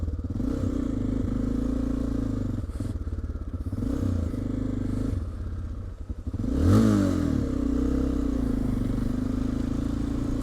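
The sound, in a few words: Honda Dominator 650 motorcycle engine while riding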